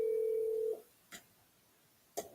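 A telephone line gives a steady tone that cuts off after under a second. Two short, separate clicks or dial blips follow about a second apart in near silence.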